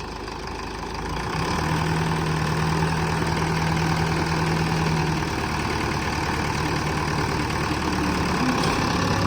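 A tractor engine running with its PTO engaged, a loud steady rumbling drone that rises in intensity after the first couple of seconds and keeps going evenly to the end, with no voices.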